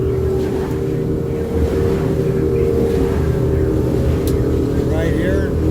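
A Stabi 2500 boat's outboard engine drones steadily and loudly at speed over rushing water and wind while the boat is trimmed, with no pauses.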